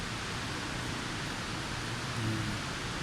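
Evening rain heard from the 30th floor of a tall building in Kuala Lumpur, a steady, even wash of hiss that stays constant throughout, distant and fairly soft, with no voices.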